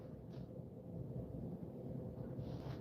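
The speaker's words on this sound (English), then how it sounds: "You hear the thunder?" Low, continuous rumbling thunder rolls through a rainstorm, a steady deep roar filling the whole stretch without a sharp crack, fairly distant and muffled.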